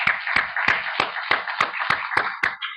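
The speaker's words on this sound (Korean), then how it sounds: "우리 주님 감사 박수 드리겠습니다." Church congregation at an afternoon worship service gives a round of rhythmic thanksgiving applause, nine or so evenly spaced unison claps at a steady beat, moderately loud and clear.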